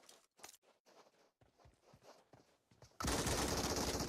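An MG3 machine gun in PUBG Mobile suddenly erupts in a loud, dense burst of automatic fire, coming after quieter scattered footsteps and movement noises.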